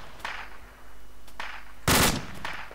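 Bursts of machine gun fire in a military shooter game come in short, spaced volleys, with one louder, closer burst near the end. No voices are heard.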